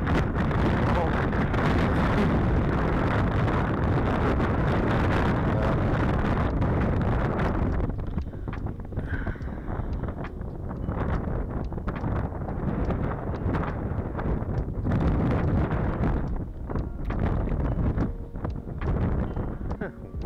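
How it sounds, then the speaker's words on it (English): Wind buffets the microphone while panfishing with live bait from a boat, a loud rushing roar that eases after several seconds into gustier, intermittent blasts, close and continuous throughout. "wind."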